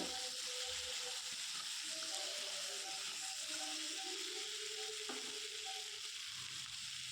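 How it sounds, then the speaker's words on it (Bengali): Cut potatoes frying in hot oil with chilli, a steady loud sizzle with light scraping and rattling as the pan is stirred, heard close up and without talking. "এই সময় আমি আমার কেটে রাখা আলুগুলো দিয়ে দিচ্ছি"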